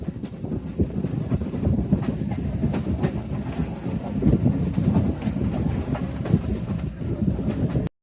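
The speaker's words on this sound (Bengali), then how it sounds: "খুলনা রেল স্টেশন থেকে বিএনপি স্পেশাল ট্রেনে যাত্রা শুরু হলো ঢাকা কমলাপুরের উদ্দেশ্যে" A BNP special train runs from Khulna toward Dhaka, a steady loud rumble with rhythmic clickety-clack of wheels on rail joints and wind buffeting the microphone, continuous and with no voices.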